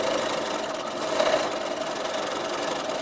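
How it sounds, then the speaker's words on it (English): A Bernina sewing machine stitches under its stitch regulator, giving a steady, fast mechanical whirr with a rapid rattling pulse that runs without a break, close by and with no talking. "when I want to use my sewing machine now, I need to push the start stop button, and this will make my machine sew."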